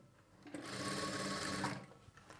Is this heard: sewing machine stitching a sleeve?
yes